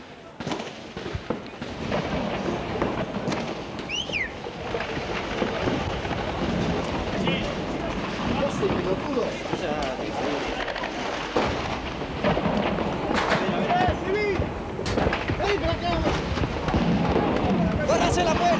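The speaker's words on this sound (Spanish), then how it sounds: "Es impresionante la cantidad de disparos que se están efectuando en este momento. Armas largas, armas cortas y disparos de mortero." Heavy gunfire from long guns, handguns and mortars crackles in dense, irregular bursts, mixing sharp near shots with duller distant booms, while agitated voices talk over the constant shooting.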